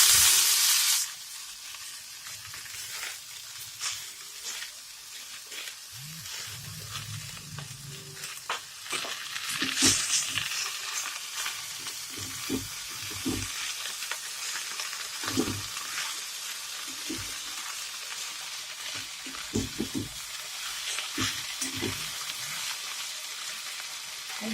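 Eggplant and fenugreek greens, Bengali style, frying in a pan, with a loud initial sizzle that settles into steady hissing, broken by repeated stirring scrapes and clatters throughout, close and alone without talk.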